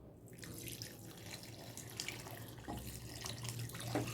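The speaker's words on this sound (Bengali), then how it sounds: "এখন আমি দেব পরিমাণ মতো পানি" Water runs steadily into a pot for Thai-style soup, a continuous close splashing and trickling stream that swells slightly toward the end.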